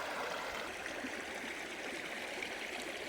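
A hill river before the monsoon rushes over rocks in a steady, continuous stream of splashing and gurgling water, close and moderately loud, with no voices.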